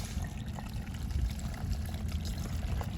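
Water gushes steadily from a garden hose into an RV's fresh-water tank at an Xscapers convergence campsite in Driggs, Idaho, a continuous low rushing pour with faint trickling above it.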